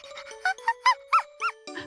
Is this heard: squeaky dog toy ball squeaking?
yes